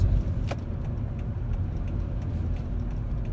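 Car driving along a back road in the South Bay, heard from inside the cabin as a steady low rumble of engine and tyres, with faint ticks and a brief click.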